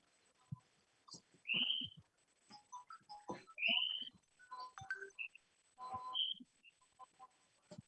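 A phone ringtone plays short, bright melodic tones several times during a seminar, over soft room clatter and murmurs.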